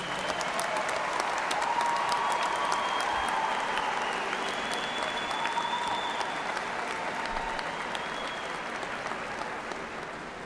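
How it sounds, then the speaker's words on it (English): Sustained applause from a commencement audience for the professor who read the graduates' names, a dense, steady wash of many hands clapping that fades slightly toward the end, with no talk over it. "how about a big round of applause for John Strada for reading all the names tonight"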